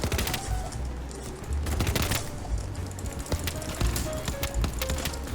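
A light support weapon fires in BattleBit Remastered, with dense bursts of rapid automatic shots mixed with distant battlefield gunfire, loud and continuous throughout.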